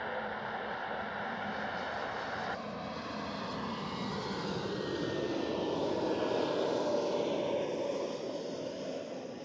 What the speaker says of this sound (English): A321neo from Athens.